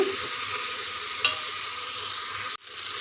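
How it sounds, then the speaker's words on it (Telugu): Bottle gourd and soaked moong dal fry in a pan and are stirred, a steady close sizzle with a brief scrape of the spoon midway, ending abruptly near the end. "పెసరపప్పు కూడా వేసి మంచిగా కలిపి మరి కాసేపు ఫ్రై అవ్వనివ్వాలండి"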